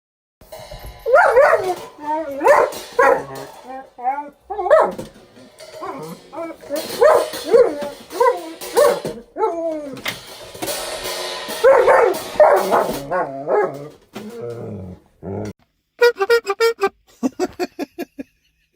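A dog barks and yips in short, repeated bursts, close and loud, with whimpers between and people talking and laughing around it.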